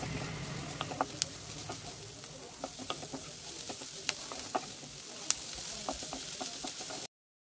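Fried paneer stirred into browned onions and spices in a pan for a paneer pasta, with a steady close sizzle broken by scattered sharp clicks and scrapes of the spoon, and no talking.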